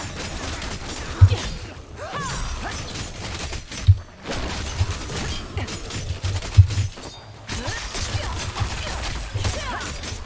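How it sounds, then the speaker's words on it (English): An enemy fires in the online action game Lost Ark, sending bursts of rapid gunfire and impact crashes in repeated volleys over a busy game soundscape, loud and close. "there's some dude shooting at me."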